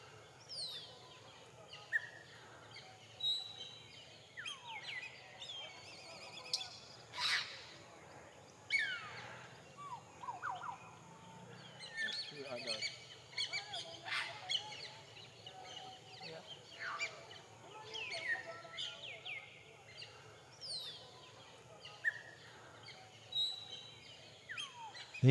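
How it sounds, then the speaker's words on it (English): An African grey parrot calls in the Ugandan morning, scattered faint whistles and squawks from some distance amid other bird sounds and quiet background. "An African grey parrot, one of my favourite parrots."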